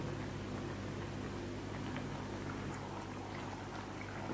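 Navratan korma simmers and is stirred in a pot on a gas stove, giving a faint, steady wet bubbling and swishing with a low hum underneath and no voices.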